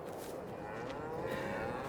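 Cattle mooing in the Farming Simulator 22 video game at a small cow pasture, a drawn-out low bovine call that rises steadily over about two seconds against a constant bed of game ambience.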